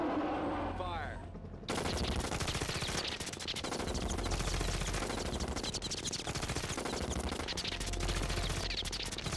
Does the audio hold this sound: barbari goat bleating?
no